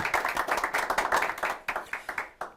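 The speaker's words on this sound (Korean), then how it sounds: "박수 부탁드리겠습니다" Audience applause greeting a guest author at a live book-talk broadcast: dense, close clapping from a small crowd, steady at first and then thinning into a few scattered final claps.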